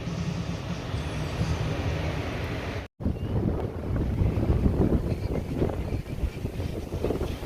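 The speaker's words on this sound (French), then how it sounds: "Il y a genre grave du vent en fait." Strong wind buffets the microphone in heavy, continuous gusts on a Honduran beach, with surf rumbling underneath and a brief dropout of sound partway through.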